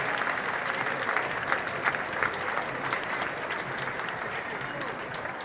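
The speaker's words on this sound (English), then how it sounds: "Big round of applause." A crowd at the Scotiabank Rat Race for United Way charity event at Scotia Plaza in Toronto breaks into a big round of applause, dense continuous clapping, loud and steady for several seconds.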